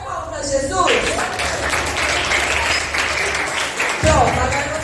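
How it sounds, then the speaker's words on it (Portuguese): A group of children at a church kids' anniversary service clap together for Jesus, a dense burst of applause rising after a brief spoken cue and continuing steadily with voices mixed in. "Vamos fazer palmas para Jesus?"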